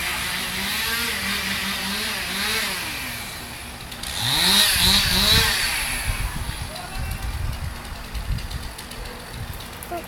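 A chainsaw cutting a tree, droning steadily at first and then surging louder midway as it bites into the wood. Voices are heard faintly alongside it.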